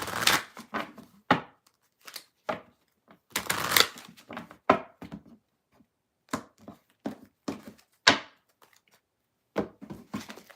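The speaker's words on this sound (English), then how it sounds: "All right, I'm gonna shuffle really good. I'm really just shuffling the way I always shuffle." Tarot cards being shuffled by hand in a series of brisk riffling bursts with short pauses between, close and fairly quiet, with no talking.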